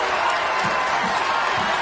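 Basketball arena crowd during a Memphis versus San Diego game, a dense continuous roar of cheering and applause with a few soft thumps underneath, loud and steady throughout.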